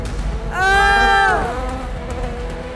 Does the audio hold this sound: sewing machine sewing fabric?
no